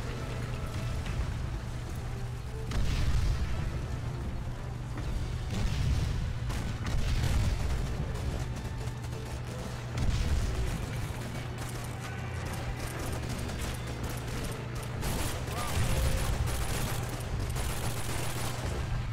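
Battlefield combat in Call of Duty 2: Big Red One, with a tank firing amid continuous loud gunfire, machine-gun bursts and heavy booms sustained throughout.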